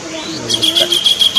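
Tengkek kingfisher calling outdoors in a park, a quick series of high, sharp repeated chirps in an even rhythm, clear and fairly close.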